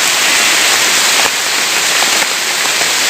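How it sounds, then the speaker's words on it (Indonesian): Steady rain pours outdoors, a dense unbroken hiss of drops on surfaces that stays loud and even throughout, with no voices. "karena ini cuacanya juga sudah hujan gitu"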